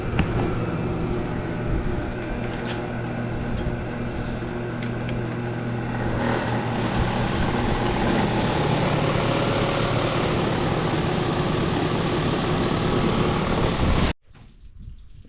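A repaired pressure washer engine runs steadily for about fourteen seconds, a loud continuous close-up roar with a slight rise partway through, then cuts off abruptly into near silence.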